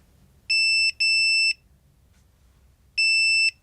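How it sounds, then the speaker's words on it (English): A Sure-Lock Z-Wave Plus deadbolt signals a completed factory reset with three loud, shrill electronic beeps: two half-second tones back to back, a pause of about a second and a half, then a third matching beep, all in a quiet room. "You'll know the factory reset is complete when you hear the following beeps."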